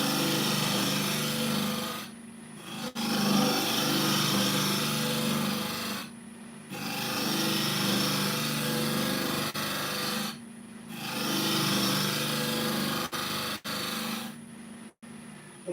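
A general-purpose carbide turning tool cuts an olive ash bowl spinning on a wood lathe, giving a steady, loud, scraping rasp over the motor's hum that is broken by several brief pauses as the tool lifts off the wood.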